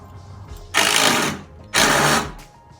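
A screw being driven while building a lift in the cold: two bursts of powered driving, each about a second long and fairly loud, separated by a short pause and set against a quiet background.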